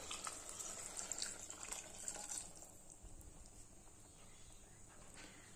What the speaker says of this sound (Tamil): இதுல தேவையான அளவு தண்ணி சேர்த்துக்கலாம்.